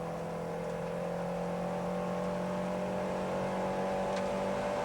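Renault 5 Elf Turbo race car in a 1987 UK Cup circuit race, engine droning steadily and close with a strong tonal hum that climbs slightly as it pulls up a gear.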